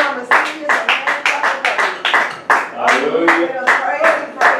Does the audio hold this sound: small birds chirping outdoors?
no